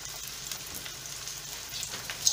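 Chopped onions and tomatoes frying in a pan for beef bhuna, a soft, even sizzle with faint crackles and a light stir near the end.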